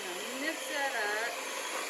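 An electric mixer whirs steadily through thick chocolate cake batter, its motor pitch wavering slightly as it churns, loud and continuous with no other sounds.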